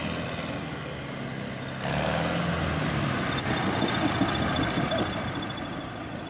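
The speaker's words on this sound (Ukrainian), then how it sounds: "Бачиш, оце ну він газ бросив ножний, а він все одно газує." An MTZ tractor fitted with a Mercedes engine revs on its own with the foot throttle released, a loud, steady low engine drone that steps up in intensity partway through, with voices faintly present.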